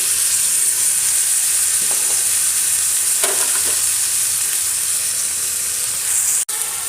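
Tomato and drumstick leaves sizzling and frying in a pan for a drumstick-leaf thuvaiyal, a loud steady hiss close by with a few faint stirring clinks and no speech.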